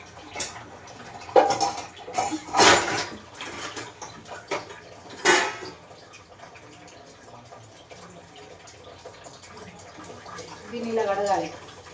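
Tap water splashes in uneven bursts while a dish is scrubbed and rinsed by hand, close and moderately loud, with people talking throughout.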